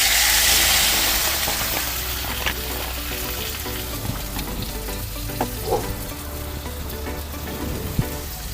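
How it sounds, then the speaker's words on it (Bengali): Water hits a hot pan holding small puti fish, bringing on a loud, close hiss and sizzle that settles into a bubbling crackle, with scattered light clinks. "এর মধ্যে জল দিয়ে দিচ্ছি"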